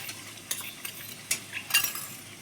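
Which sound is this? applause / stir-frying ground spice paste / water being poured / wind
stir-frying ground spice paste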